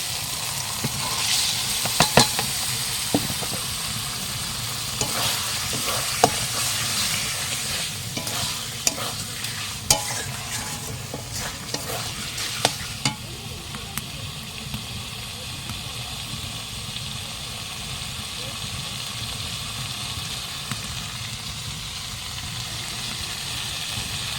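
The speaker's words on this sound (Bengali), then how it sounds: "মশলাটা কষে গেছে, এখন আমি চিকেনটা দিয়ে দেবো।" Chicken pieces go into spice paste already fried down and sizzle loudly in the pan, with repeated sharp scrapes and clatters of stirring over a steady frying hiss that continues after the stirring stops.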